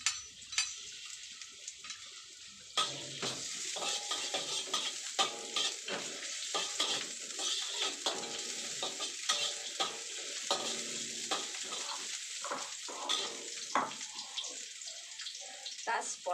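Garlic sizzles in hot oil in a pan while a utensil stirs and scrapes it in a steady, irregular rhythm, close and moderately loud.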